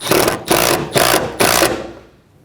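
A 10mm bolt is tightened on the rear shock of a 2013-2017 Honda Accord, giving four loud, even bursts of rapid mechanical ratcheting with short gaps between them, trailing off at the end.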